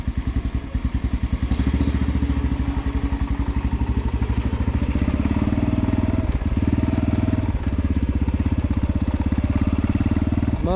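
An X-Pro Storm 150 DLX dual sport motorcycle idles with a clattering thump, then revs and pulls away in first gear, its single-cylinder engine loud and close with rising and falling throttle.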